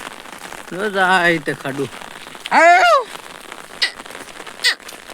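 Heavy rain pours down during an outing in the hills with a livestock herd, making a constant hissing patter under someone talking in short bursts.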